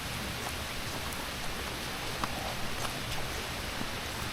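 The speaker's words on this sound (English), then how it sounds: "This is what it's like in real life. It rains." Steady rain falls outdoors at a seaside landing in Carrickfergus, a dense even hiss of drops on surfaces with occasional louder patters, no voices.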